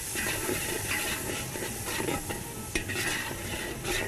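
Nihari masala and flour are stirred and roasted in a pan, a loud, close, continuous sizzle and hiss with scraping stir strokes throughout, with no voices.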